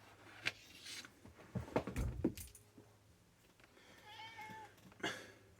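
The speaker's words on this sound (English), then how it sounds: "the point is not the cat screaming into the microphone" A cat meows a couple of times close to the microphone, quiet and drawn out, amid soft clattering and handling noises.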